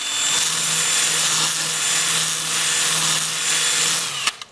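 A rough honeysuckle root with rot and rocks in it is worked on a wood lathe with a 60 grit abrasive, producing a loud, continuous grinding rasp that ends in a couple of sharp knocks.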